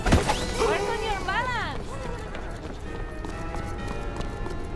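Rhythmic hoofbeats of a galloping horse in the video game En Garde!, with a shouted voice over it at the start and busy background sound throughout.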